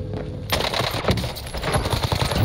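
Rapid gunfire in a Warzone match, dense overlapping shots and bursts after a brief lull, loud and continuous throughout with a busy game soundscape behind.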